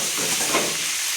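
Onions and curry leaves for a dried fish curry sizzling and frying steadily in a pan, a close, continuous hiss with no talk.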